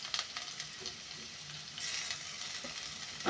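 Carrot, potato, coriander leaves, curry leaves and green chilies sizzle and crackle steadily in a hot pan for aval upma, with occasional scraping and stirring clicks, fairly quiet and close with no talking.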